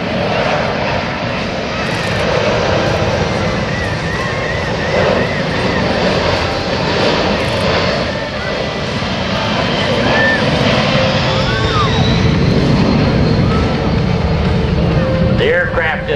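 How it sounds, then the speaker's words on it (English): A Boeing C-17 Globemaster III military jet maneuvers at the Dover Air Force Base airshow, its engines a loud, continuous roar that swells and shifts, with an announcer's voice faintly underneath. "The aircraft is now maneuvering to demonstrate a full flap approach to a simulated short field runway."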